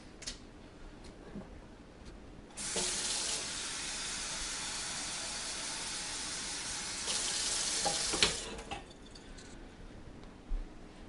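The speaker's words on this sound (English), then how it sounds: "we're going to put some water in a" Water from a tap running into a cooking pot, a steady rushing stream of about five seconds that swells briefly near the end, framed by quiet clinks and handling noises before and after.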